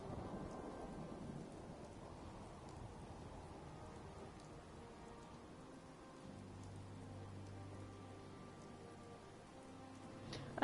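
Rain and thunderstorm ambience in a building video game: a steady hiss of rainfall with low rolling thunder, and a deeper sustained rumble in the second half, with no one talking.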